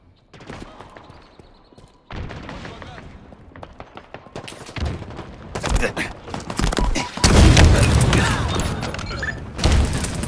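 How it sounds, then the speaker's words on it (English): Rocket launcher fire in Halo Infinite, with loud, repeated blasts and booming explosions among dense gunfire across the whole stretch. The barrage grows heavier toward the end. "Rocket launcher."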